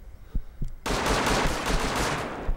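Sustained burst of automatic gunfire from the video game Rust, loud and dense after a few faint thumps, continuing as a rapid crackling volley to the end.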